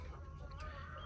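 A hen clucks softly nearby in a brief, faint burst of low throaty sounds over quiet background.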